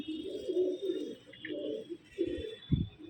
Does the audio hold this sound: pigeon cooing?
yes